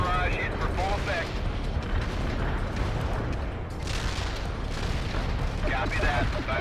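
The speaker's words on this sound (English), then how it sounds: "Artillery barrage hit for full effect" An artillery barrage pounds continuously in the World in Conflict video game, with dense, roaring explosions rumbling without a break. Radio voices come through over the blasts.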